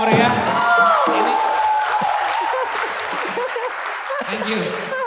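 An audience at a traditional Manggarai music event in Ruteng claps in a dense, sustained burst, with a voice speaking over the applause near the start.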